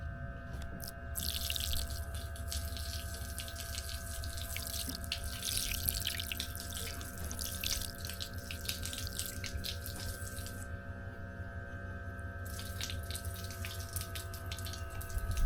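Water runs steadily from the hose of a Dr Prepare solar shower used at a camper van, a continuous close splashing flow with brief interruptions near the start and around the eleventh second.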